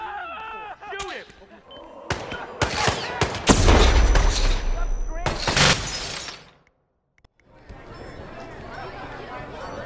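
Gunfire in the video game Hitman 2, set in Paris, with several loud shots and a shattering burst amid shouting voices, then a brief silence before background chatter returns.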